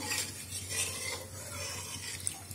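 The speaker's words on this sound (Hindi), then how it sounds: "अच्छे से पका लेते हैं इसे गाढ़ा कर लेते हैं चम्मच चलाते ही रहेंगे इसको" A spoon stirs thickening milk in a pot for coconut barfi, giving soft, faint scraping and swishing strokes close by, steady and quiet with no talk.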